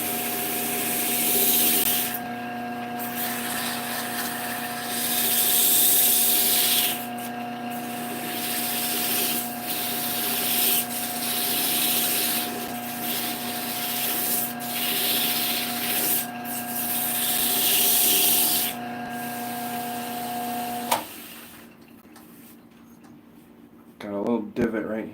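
A wood ornament spinning on a lathe as it is polished, with repeated rubbing and sanding passes over a steady motor hum, close and moderately loud; the lathe winds down near the end.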